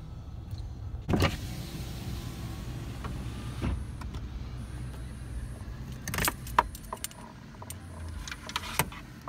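Power windows of a car whirring down with a fan running inside the parked vehicle, a faint steady motor hum with a few clicks and key-like jingles breaking through around the middle and later.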